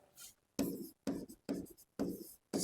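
Chalk tapping and scraping across a board while an equation is written: a series of short, distinct scratchy strokes separated by brief gaps, close and fairly quiet.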